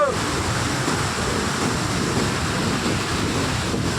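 Water rushing hard over and through the gates of Sannakki dam, a loud, steady roar of turbulent flow that fills the whole clip with no break.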